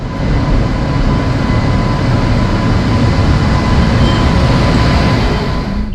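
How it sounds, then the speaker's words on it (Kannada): A train rumbles loudly and continuously at close range as it arrives at a station, a dense steady roar of wheels and carriages with no talk over it. "ಟ್ವೆಲ್ ಟ್ವೆಂಟಿ ಟೂಗೆ ಟ್ರೈನ್ ಬರ್ತಾ ಇದೆ"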